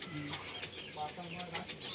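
Pigeons kept for sale coo softly in short low warbling notes, with faint chirps mixed in at a moderate distance.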